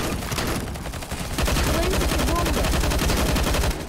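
Rapid gunfire in Garry's Mod, dense, loud bursts that become a continuous automatic stream for a couple of seconds before easing off.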